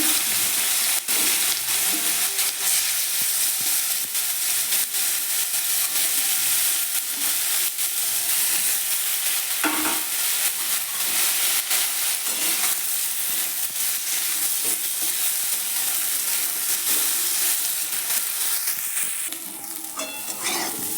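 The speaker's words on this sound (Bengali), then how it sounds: "তেল গরম হয়ে গিয়েছে, এরপর ফুলকপিগুলো ভেজে নিচ্ছি।" Loud, continuous sizzle of cauliflower frying in hot oil, with crackling pops and occasional stirring throughout; no one speaks.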